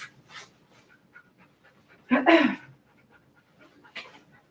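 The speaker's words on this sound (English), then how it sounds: "some things you can hear the dog is really not liking" Distressed dog whimpering and panting while being shaved during grooming, a run of short breathy pants with one louder, harsher burst of whining in the middle, close by and without talk.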